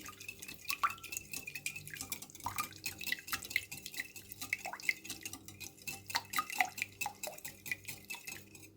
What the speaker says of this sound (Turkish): malzemelerimizi şöyle bir çırpıcı ile önce bir karıştıralım